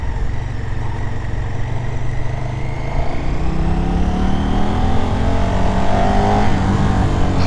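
A 2023 KTM 1290 Super Duke R, a 180 hp naked motorcycle, ridden along a coastal road: a steady, loud engine roar with wind rush, its pitch climbing smoothly as the bike accelerates.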